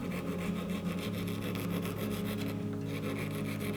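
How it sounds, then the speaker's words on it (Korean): A hand file rasps along the edges of a resin jewelry piece in quick, repeated close strokes, a steady gritty scraping with no talk. "그러면 이제 줄을 이용해서 양옆을 좀 다듬어 보겠습니다."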